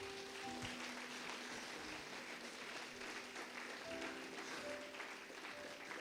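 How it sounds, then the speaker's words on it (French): Audience applause at a Christian gathering, steady and sustained throughout, a dense wash of clapping filling the room at even loudness with a few faint tonal notes sounding over it. "Et je crois qu'on peut les applaudir encore."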